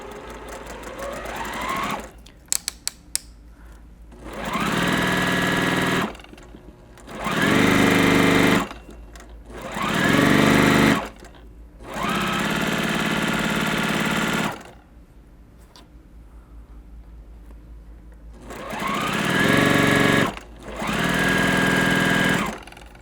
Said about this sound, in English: I'm going to sew these, and then I'm going to cut them apart